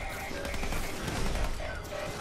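Rapid bursts of gunfire from shooting at robots in the Fallout 4 video game, dense and continuous over the whole stretch, with game sound effects mixed in.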